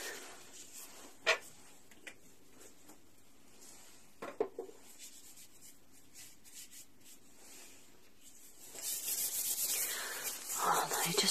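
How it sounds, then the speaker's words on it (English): Hands rubbing cream in during an ASMR grooming exam, soft close slippery rubbing with a few light taps, growing into louder, denser friction toward the end. "Just rubbing it in."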